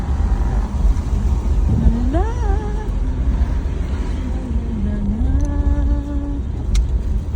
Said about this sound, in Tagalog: May sasakyan na.